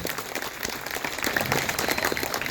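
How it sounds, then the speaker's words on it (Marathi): A crowd applauds at a Hanuman Janmotsav kirtan in Nashik, with continuous dense clapping throughout, busy and reverberant, with some sharper nearby claps over the general wash. "जोरदार टाळ्या पाहिजे"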